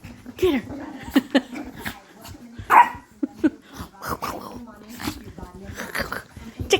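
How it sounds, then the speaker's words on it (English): A dog barks in short, sharp bursts close by while people talk over it, with a few louder yaps standing out. "No, no barking."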